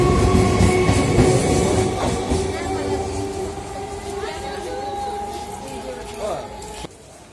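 Loud rumble and clatter of a moving local train from Sealdah toward Dakshin Barasat, with steady tones and a voice speaking over it, fading near the end.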